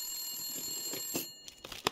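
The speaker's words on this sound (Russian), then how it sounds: "Вдруг зазвонил телефон." Telephone ringing in the survival video game The Long Dark, a thin high bell-like trill over a faint hum, building into sharper clicks and a final loud clang.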